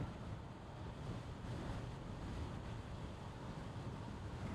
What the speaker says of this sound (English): Just trying to fight this wind.